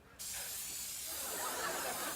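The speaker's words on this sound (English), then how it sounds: "we'll need to remove the harmful gamma rays from our body using this decontamination spray" Decontamination spray bursts on after a brief quiet moment and keeps up a steady, loud, broad hiss for about two seconds, heard alone in a sci-fi sitcom scene.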